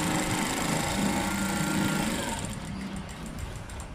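A sewing machine stitches an inskirt with a steady continuous whir that holds at an even level and eases slightly toward the end, fairly faint, with no talking.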